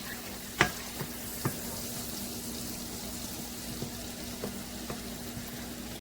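Butter melts in a pan over low heat with a faint, steady sizzle and a few small scattered pops, heard up close and quiet with no talk.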